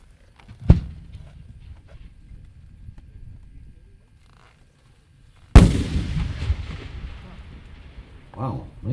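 A 10-inch firework shell at a Midwest fireworks festival gives a sharp launch thump, then after a pause bursts with a loud, booming break that rumbles and crackles away, with a fainter pop at the end.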